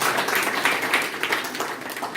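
Audience applause fills a hall at a stress-management and personality-development talk, a steady dense patter of many hands clapping throughout, fairly close and loud.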